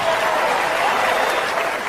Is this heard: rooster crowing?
no